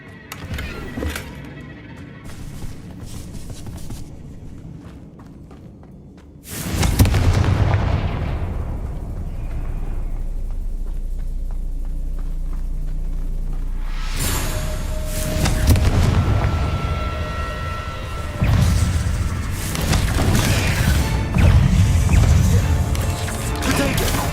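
Loud spell blasts from the Confringo fire spell in Hogwarts Legacy, heavy booming explosions that erupt suddenly and roll into sustained rumbling, with several separate bursts following one another and mechanical battle noise around them.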